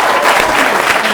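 A comedy club audience greets a comedian in 1989 with a dense, loud wash of clapping, close and continuous through a short burst, no voices standing out.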